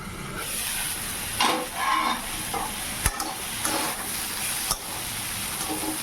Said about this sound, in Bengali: আদা, কাঁচা লঙ্কা তেলের উপরে দিয়ে বাঁধাকপি, আলু, টমেটো সব দিয়ে দিলাম